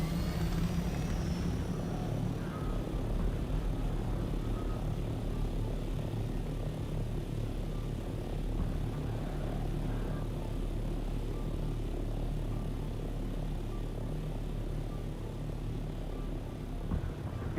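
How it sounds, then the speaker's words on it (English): A sandstorm in the video game Dune Awakening makes a dense, unbroken roar of wind that stays loud and even throughout, with no other sounds standing out. "and there's a sandstorm."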